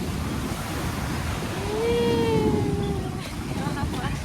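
Strong wind buffeting the microphone outdoors, a continuous rushing roar with a voice speaking briefly in the middle.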